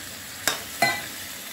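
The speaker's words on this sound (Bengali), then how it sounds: "এবারে আমি লাউ ডাঁটাটা দিয়ে দিচ্ছি। সবজিটা ডুববে এরকম একটু জল দেবো।" Bottle gourd stems and a little water added to a hot pan, giving two sharp sizzling hits with stirring scrapes over a steady background frying hiss.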